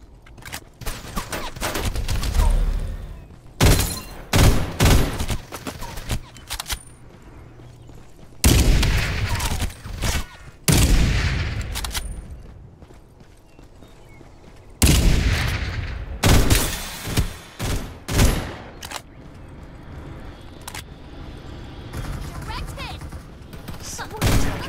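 Gunfire rattles in a video game in bursts of rapid automatic fire, loud and close, with pauses between volleys and scattered game sounds around them.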